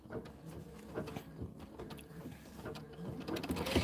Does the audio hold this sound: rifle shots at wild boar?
no